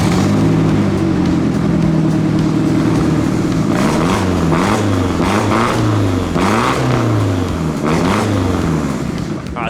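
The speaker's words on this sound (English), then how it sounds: "I'm gonna start up the S13 and show you how bad it sounds." Nissan S13 with an SR20 turbo engine and stock cast log manifold, idling loudly up close, then blipped through a series of rising and falling revs in repeated swells over a rough, buzzy drone.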